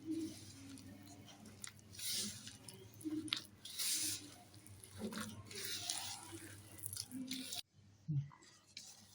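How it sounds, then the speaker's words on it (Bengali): Rice flour dough for coconut pitha being kneaded by hand, giving close, soft squishy and sticky slaps in an uneven rhythm that pauses briefly near the end. "দেখুন আমার ডোটা মাখানো কমপ্লিট হয়ে গেছে।"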